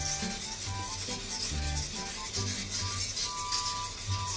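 A kitchen knife is worked on a medium whetstone with a steady, continuous grinding rub, close and unbroken, with no talking.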